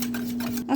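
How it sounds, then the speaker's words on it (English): A whisk stirs homemade chocolate pudding mixture in a bowl, making a steady scraping, rubbing swirl up close that continues without pause and ends with a brief louder knock. "Okay, I think we've got that whisked up good."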